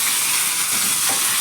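Mustard and cumin seeds spluttering in about two spoons of hot cooking oil, a steady bright sizzle with small popping crackles throughout and no talking.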